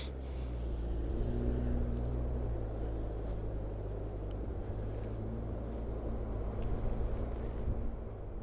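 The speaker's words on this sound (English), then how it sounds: "Somebody on a four-wheeler out there," A loud four-wheeler passes by outdoors, a low rumbling engine drone that holds steady throughout at a moderate distance, with some wind noise over it.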